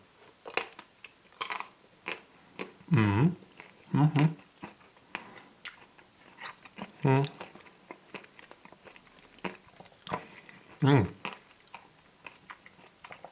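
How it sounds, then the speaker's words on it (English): Biting into a Magnum Utopia Double Cherry ice cream bar, the chocolate shell giving a few loud, close cracks and crunches spaced apart, followed by chewing between bites, with the person's voice intermittently present. "we do have a very nice crack from the chocolate"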